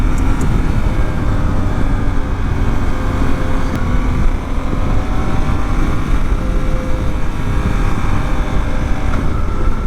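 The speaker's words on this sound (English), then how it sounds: "Do y'all hear this motor?" A 2024 Suzuki V-Strom 800 DE motorcycle engine runs steadily and loudly throughout, a continuous rumbling drone with road and wind noise mixed in.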